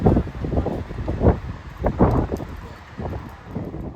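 Strong wind in Istanbul on a sunny, cold day, buffeting the microphone in irregular loud gusts and rumbling bursts throughout, with no one speaking.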